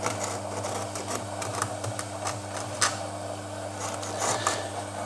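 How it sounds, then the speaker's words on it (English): A vanilla pod is scraped to pull out its seeds, producing soft, repeated scratchy strokes over a steady low background hum, fairly quiet and close, with an occasional sharper tick. "Again, let's just scrape this out there."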